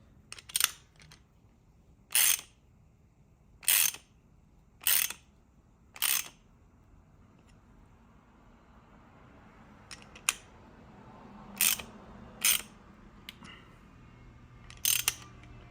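A hand ratchet clicks in short bursts while tightening bolts on an oil cooler being installed on an Infiniti Q50 with a VQ37 engine: about five sharp close clicks, a pause, then several more.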